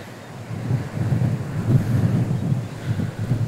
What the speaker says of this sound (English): I think the wind is blowing in the right direction